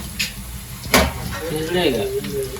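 Mutton goes into a hot pan of frying onions and dried red chillies for a Sankranti family meal, with a steady sizzle, a sharp clatter near the start and voices talking over it.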